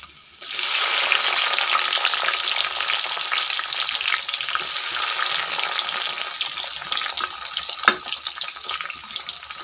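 Ginger garlic paste and tomatoes frying in a pan, a loud, steady close sizzle that bursts in suddenly and crackles on continuously with occasional stirring clinks.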